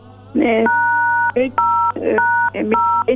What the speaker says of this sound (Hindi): किसी चीज़ से वहाँ से बटन दब रहे हैं जिसकी वजह से आवाज़ क्लियर नहीं है